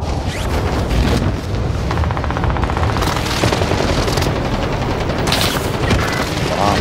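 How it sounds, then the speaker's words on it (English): Allied precision airstrike in a military video game: continuous heavy explosions and rattling gunfire, loud and dense throughout, with booms and bursts overlapping without pause. "Allied precision airstrike incoming."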